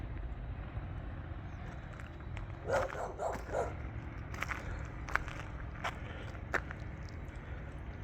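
A big dog in a village along a ditch bank in Los Ranchos de Albuquerque gives a few scattered barks, moderately distant, over steady low outdoor rumble and passing traffic noise.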